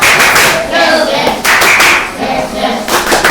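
Sixth-grade class performing tepuk semangat, a spirited rhythmic clapping chant: crisp bursts of many hands clapping in a patterned beat, loud and close, repeating in short phrases with voices mixed in.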